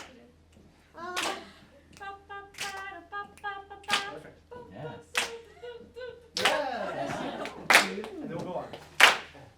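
Hand claps keeping time in a vocal improv session, several bright claps spaced between stretches of singing and voices, with a few more sharp claps toward the end.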